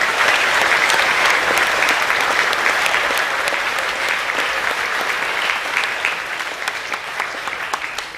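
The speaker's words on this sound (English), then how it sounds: "Boys, let's get round them with a round of applause" Boys at a school co-curricular awards assembly give a round of applause, a loud, dense, steady wash of many hands clapping that carries on without a break and eases off only slightly toward the end.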